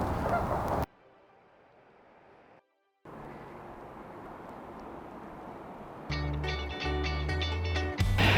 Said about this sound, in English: they are Canada geese, not Canadian geese